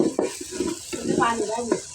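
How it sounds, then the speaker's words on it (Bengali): Spices fry in a pan during rooftop cooking, a short burst of sizzling with stirring and scraping of the utensil, and a voice briefly over it. "মশলা একটু ভেজতে হবে, এই যে দেখেন ভাজতে হবে বালা করে"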